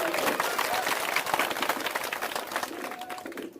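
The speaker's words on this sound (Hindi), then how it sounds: "अब एक बार जोरदार ताली बजाइए प्रशांत को।" Crowd at a village public meeting in Bihar clapping loudly, a dense, fast patter of many hands that thins out and stops abruptly at the end.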